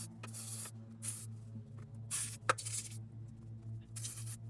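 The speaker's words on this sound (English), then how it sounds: "Gonna clean connectors a bit with brake parts cleaner." Several short hissing bursts of brake parts cleaner sprayed onto the battery connectors of a 2014-2016 Toyota Corolla, separated by pauses over a steady low hum, with a faint click between bursts.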